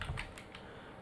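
A few soft keystrokes on a computer keyboard as a file name is typed, brief and close over a faint background hiss.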